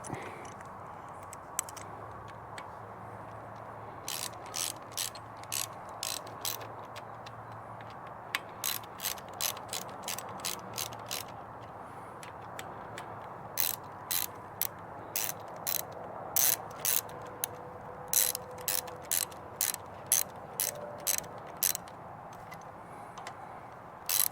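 A hand ratchet clicks in quick bursts while tightening the riser bolts on a Honda Rebel 1100T during a ROX riser install, with rapid ticking strokes separated by short pauses over a low steady background hum.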